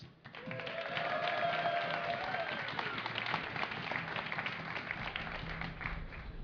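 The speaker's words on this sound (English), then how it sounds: "If you would like the Korean hero OGSTop to win, give a cheer for OGSTop." A large crowd at DreamHack 2010 cheers and claps loudly and steadily during a StarCraft II match, a continuous roar of applause with whistles and shouts throughout.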